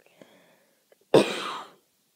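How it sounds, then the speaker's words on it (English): A single harsh cough bursts out, close and loud, after a few faint small noises, then fades into silence. "I'm trying not to cough, but"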